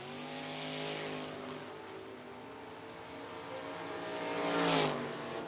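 Footbrake drag race cars, including a '66 Nova, launch from the starting line. Loud, roaring engines rise and sweep past, with a second surge of revving near the end, heard outdoors at a distance with no talking.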